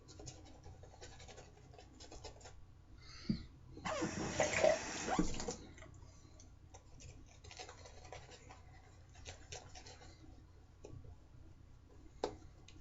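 Tap water runs into shaving lather in one brief gush of about a second and a half, with quiet scratchy brushing and clicking before and after.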